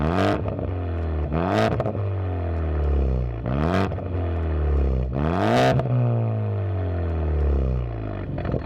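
A car fitted with a Vibrant ultra quiet resonator and catted downpipe revs repeatedly up and down nearby, each climbing exhaust note falling back to a deep, low idle rumble, with no talking.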